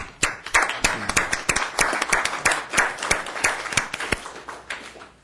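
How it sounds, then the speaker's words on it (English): A small audience at a Garden Grove city council meeting claps in sharp, uneven individual hand claps that form a loose round of applause lasting about five seconds, close and fairly clear. "I'm going to give them a round of applause"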